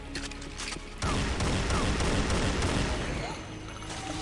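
Automag pistol fired in the original Unreal, with a dense burst of sharp gunshots starting abruptly after a quiet second and continuing loudly, echoing over background game ambience.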